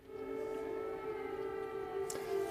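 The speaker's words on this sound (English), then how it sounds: "the sirens around Lviv, the air raid sirens are going off" A steady, droning air raid siren wails at a constant pitch over Lviv, Ukraine, in wartime, distant and sustained, with no voices.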